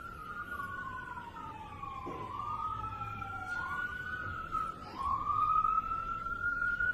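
Police sirens wailing as they pass outside a courtroom, rising and falling sweeps from a moderate distance with traffic rumble beneath.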